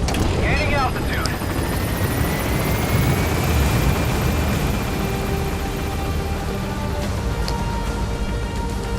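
Helicopter in the Metal Gear Solid V game climbing to gain altitude, its rotor roar loud and steady throughout with a rising whine, close and continuous, with game voices speaking over it.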